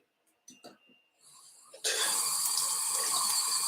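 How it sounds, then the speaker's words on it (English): Water gushes steadily from a handle-less tap in an Art Deco bathroom, starting abruptly after a few faint clicks and breaths, then running loud and close without pause. "How did the water turn on? Well, you have to do this."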